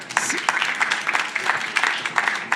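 A modest audience at a regional industry and decarbonisation event claps, a brief, uneven patter of hands with individual claps standing out and fairly close.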